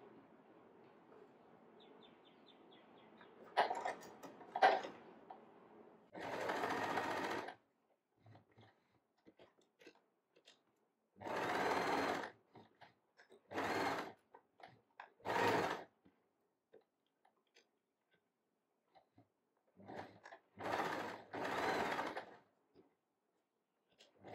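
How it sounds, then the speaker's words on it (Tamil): A sewing machine stitches a fabric strip straight for handmade hair clips in short, whirring bursts of a second or two. The bursts are separated by quiet pauses with small clicks and handling noises. "இந்த ஸ்ட்ரிப்பை அப்படியே ஸ்ட்ரெயிட்டாக அப்படியே ஸ்டிச் பண்ணி வந்துடலாம்."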